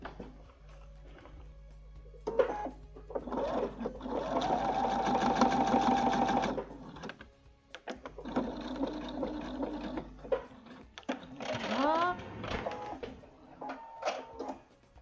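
A serger overlocker stitches through the fabric of a Charlotte dress in a sewing room. Its fast, steady motor whir runs for a few seconds, stops, and comes back in shorter bursts, with faint handling sounds in the gaps.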